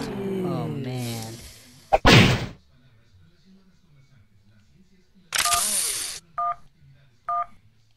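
Cell phone dialing tones in a video game: after a voice and a sharp burst, a few short beeping keypad tones sound in quick succession, clear and close, with a longer noisy burst between them.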